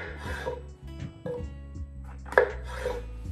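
Knife cutting courgettes on a board, a few sparse chops and scrapes, close and fairly quiet against a steady background hum.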